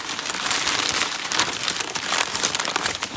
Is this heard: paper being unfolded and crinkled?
yes